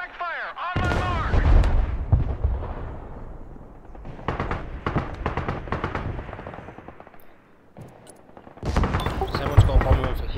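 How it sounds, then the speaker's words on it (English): Artillery shells and rockets pound a position in the video game Broken Arrow, heavy booming blasts and crackling explosions arriving in loud bursts with brief lulls between salvos. "I'm gonna get the bombardment out"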